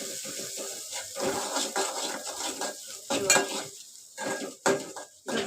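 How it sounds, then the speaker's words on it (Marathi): Onions are stirred in oil over low heat for stuffed brinjal, with soft crackling and repeated clinks and scrapes of a spatula against the pan in uneven bursts, close and fairly quiet, with no talking. "गॅस बारीक ठेवायचा कांदा परतून घ्यायचा तेलात"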